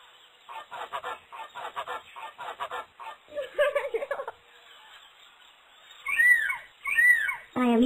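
Cartoon flamingo calls from the Baby Hazel Fancy Dress game: two honking, goose-like squawks near the end followed by a rising shriek, loud and close, after a stretch of voiced lines earlier on.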